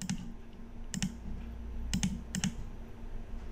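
Mouse clicks while building an animated slide in PowerPoint: four sharp double clicks at irregular intervals, close and clear over a quiet low room hum.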